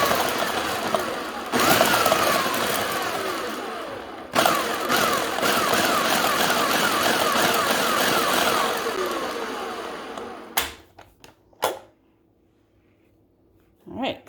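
Food processor pulsing pitted dates, rough grinding bursts of motor noise in a few long pulses, ending with short sharp stops and quiet between them.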